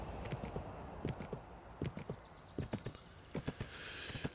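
Horse hooves clip-clop in the video game Kingdom: New Lands, a sequence of close, crisp paired footfalls in uneven bursts over a quiet ambient background.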